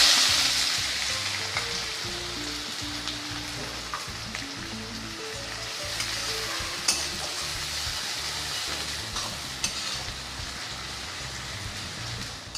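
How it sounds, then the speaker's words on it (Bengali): Chopped onion sizzles in hot mustard oil in a wok, a steady crackling fry with occasional stirring clatter, moderately close and continuous with no talk. "পেঁয়াজটা হালকা করে ভেজে নিয়ে দিয়ে দিচ্ছি 1 চামচ রসুন বাটা।"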